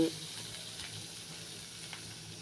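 Chopped onions sizzle in hot oil with mustard and cumin seeds, a steady, even frying hiss that stays at one level throughout with no talking.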